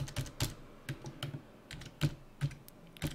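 Keystrokes on a computer keyboard as a spreadsheet sheet tab is renamed, a quiet, irregular run of about a dozen close, crisp clicks over three seconds with no talking.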